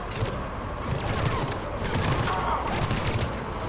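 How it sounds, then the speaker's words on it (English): Rapid bursts of gunfire from a mounted gun in the video game Mass Effect 3, a dense, continuous rattle of shots in a busy battle scene. "Trooper on the gun, Shepard. Gotta get him off that gun"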